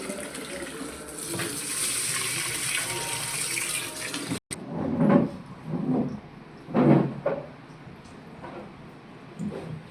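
Barnyard millet grain being washed by hand in water: a steady wash of running water, then after a brief cut, several close sloshing and swishing bursts in an uneven rhythm.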